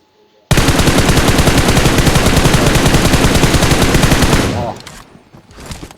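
Sustained automatic gunfire in the video game PUBG Mobile, a loud, rapid, unbroken burst of shots lasting about four seconds, then it cuts off and a faint voice follows.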